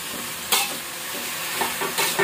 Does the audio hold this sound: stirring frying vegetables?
yes